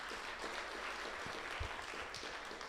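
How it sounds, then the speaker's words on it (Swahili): A church congregation at a Kikuyu service claps for newly admitted Mothers Union members, a faint, steady wash of applause heard from a distance. "Tuwapigia makofi."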